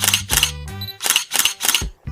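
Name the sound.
camera shutter clicking as photos are taken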